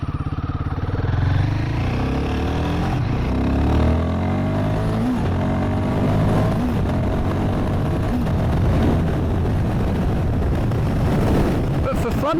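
A Royal Enfield Guerrilla 450 motorcycle is under way, its engine giving a loud, close, continuous drone that rises and falls with the throttle while a rider talks over it throughout.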